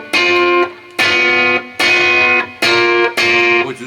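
Electric guitar chords struck five times in a steady rhythm, each ringing out with a washy, reverberant sustain before the next hit; loud and up close.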